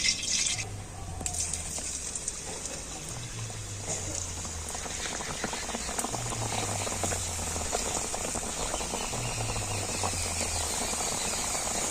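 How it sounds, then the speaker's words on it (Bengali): Semolina-stuffed pitha fry in hot oil with a steady bubbling sizzle throughout, alone and close up, with a faint repeated low hum beneath. "এখন আমি এই পিঠেগুলো তেলের মধ্যে ভেজে নেব"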